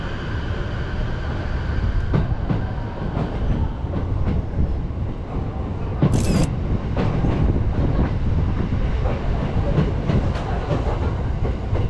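A Sotetsu Line train, the Mystery Train No. 3, runs on its rails with a steady rumble and rhythmic clickety-clack of the wheels from inside the car, holding even loudness throughout with a short brighter burst midway.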